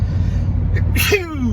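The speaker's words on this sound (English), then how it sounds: "I gotta sneeze." A single sudden human sneeze cuts through a steady background hum, with a quick inhale just before the burst, which then trails off into a short vocal tail.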